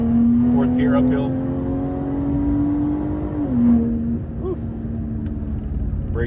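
BMW G30 540i six-cylinder engine pulling flat out uphill in third gear on a mountain road, a loud steady drone rising in pitch, dipping briefly at a shift, then climbing again from inside the cabin.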